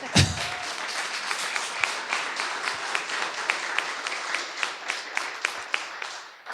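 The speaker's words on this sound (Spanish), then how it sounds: "Fuerte aplauso, por favor." A church congregation claps along at close range, with a strong rhythmic pattern of steady, evenly spaced claps over a bed of lighter scattered applause.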